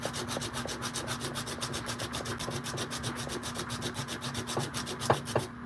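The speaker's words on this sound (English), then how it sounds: "And you want some fresh sandpaper too, but this is how I get the nicks out." Sandpaper rubs rapidly back and forth against a metal ring to remove hammer marks, a close, steady rasping rhythm of short regular strokes, with a couple of light knocks near the end.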